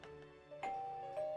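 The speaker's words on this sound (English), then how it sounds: "You hear the doorbell ringing." A doorbell rings in the video game Persona 4 Golden, a short two-tone ding-dong chime heard clearly over soft background music.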